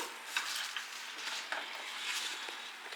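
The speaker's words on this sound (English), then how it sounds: "Now just go on stirring till the whole thing gets separated nicely." Sugar and jaggery mixture stirred in a pan with ghee, giving a faint continuous sizzle with soft scraping strokes and light patter, heard alone.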